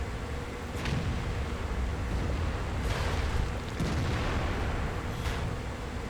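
A heavy E100 tank gun fires in a tank battle video game, a deep booming shot among rumbling engine and battle noise, with a couple of sharp blasts standing out over the continuous low roar.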